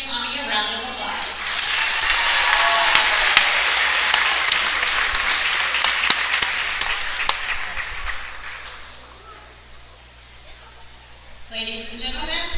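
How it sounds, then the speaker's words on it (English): An audience at a high school boys' basketball event claps in sustained applause for about nine seconds, dense and loud, then fades out before a voice speaks over a public-address system. "Let's give Tommy a round of applause."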